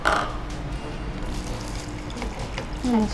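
Water runs in a steady stream, like liquid being poured into a container, continuous and close by, with a faint tonal squeak at the start and end.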